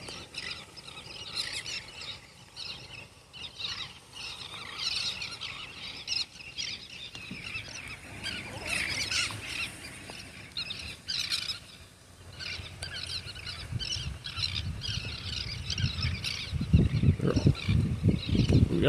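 A large flock of small birds and seagulls calls constantly in the rain, a dense busy chatter of chirps over the patter of rain, with louder low rumbling gusts toward the end.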